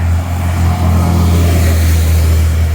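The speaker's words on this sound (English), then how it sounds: "There was bus 5." A Halifax Transit number 5 city bus rumbles past close by on a fall morning street. Its engine gives a loud, steady low drone that holds throughout.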